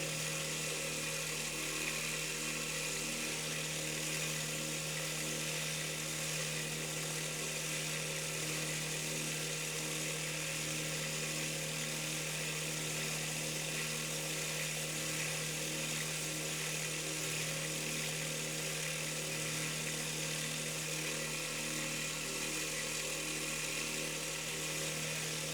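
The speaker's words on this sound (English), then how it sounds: "This is the point where I sand them down to match the rest of the knife frame perfectly" Belt sander smoothing horn knife handle scales on a Jim Bowie Germany knife, a steady high-pitched whine with a constant hum, running continuously and close without pauses.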